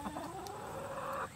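A nervous pet hen clucks indoors, a short rising, wavering call that carries briefly before trailing off, close and moderately loud over a low background.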